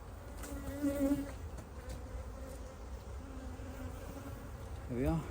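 Honeybees buzz around a beehive super, a steady low hum with individual bees droning past nearby, one passing close and loud near the end.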